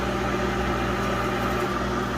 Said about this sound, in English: And you see the microwave is going around and around,